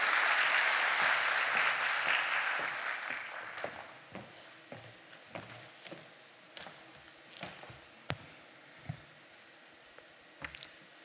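Audience applause at the opening of a national IT congress in Turkey, a dense broadband clapping that fills the first few seconds and then thins and fades into a few scattered, isolated claps.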